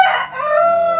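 A chicken crows loudly and close by, one sustained cock-a-doodle-doo that fills the whole moment with no talk over it.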